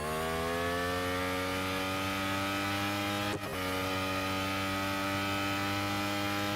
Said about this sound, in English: Now bear in mind this is a hybrid engine.